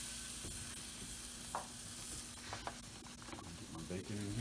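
Sausage and bacon sizzle steadily on a Big Green Egg, giving a continuous close frying hiss with a few soft scrapes and clicks.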